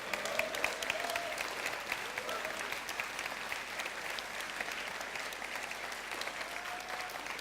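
Steady applause from a large conference keynote audience, with cheers and whoops rising above the dense clapping throughout.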